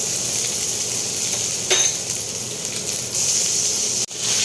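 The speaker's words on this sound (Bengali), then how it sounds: "আদাটা হালকা ফ্রাই হয়ে যাবে" Ginger frying lightly in hot oil with dried red chilies and bay leaf for Bengali khichuri, a steady loud close sizzle with a brief clink of a utensil partway through, no voices.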